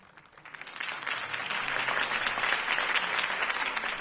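Crowd applause in the video game Batman: The Telltale Series rising quickly and holding steady, dense clapping from many people, moderately loud throughout.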